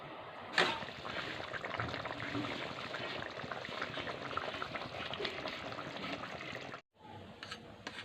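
Continuous bubbling and hissing of curry boiling in a pot, steady and fairly close, briefly cutting out near the end before resuming.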